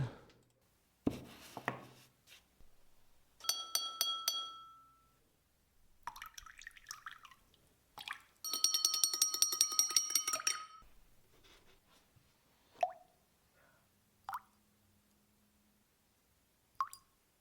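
A tune from Undertale is tapped out on a glass of water with a spoon, bright ringing clinks in quick repeated bursts and isolated single strikes separated by near silence.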